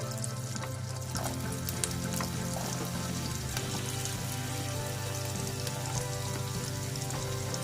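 Onion frying in a pan, a steady, dense sizzle with fine crackles, held at an even level throughout.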